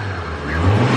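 A Nissan R32 Skyline engine revs up from a steady rumble, the throaty growl building louder toward the end, close and alone.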